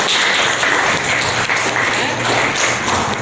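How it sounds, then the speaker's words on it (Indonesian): A class of students applauds group 1 after a presentation, steady, loud and sustained clapping that fills the room evenly throughout, with no talk over it. "Oke, tepuk tangan untuk kelompok 1."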